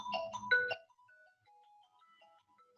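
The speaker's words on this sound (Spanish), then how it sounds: "Me olvidé de silenciar el teléfono." A mobile phone ringtone plays a short, bright melodic burst of tones, then trails into quieter scattered notes, clear against an otherwise silent lecture room.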